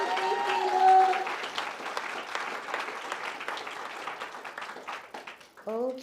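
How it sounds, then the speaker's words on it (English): Audience applause at a school honor society ceremony, a dense, steady round of clapping from a crowd that gradually thins out near the end as a voice begins to speak. "can we give them another round of applause?"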